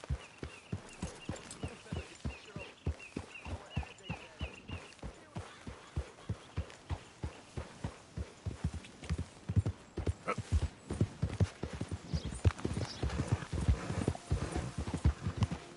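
Horse hooves clip-clop in a steady, quick rhythm in Red Dead Redemption 2, close and clear, with faint ambient noise and no talking.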